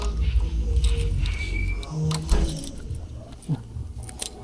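Motorcycle keys jangling close by in repeated metallic clinks, with a motor vehicle rumbling underneath.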